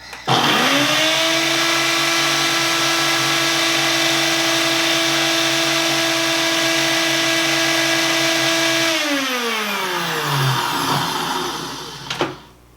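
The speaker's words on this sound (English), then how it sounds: "I'll put it on my Ninja and then I'm just gonna let it rip." A Ninja blender grinds dry chia seeds into powder, its motor whining in a loud, steady, close drone for about nine seconds before winding down, then ending in a brief rattle.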